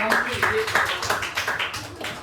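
A group that has just played trumpets gets a short burst of applause, uneven claps pattering for a couple of seconds while voices chatter over them.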